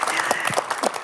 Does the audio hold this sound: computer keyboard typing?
no